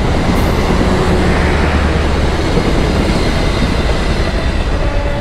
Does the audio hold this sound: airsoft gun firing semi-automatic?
no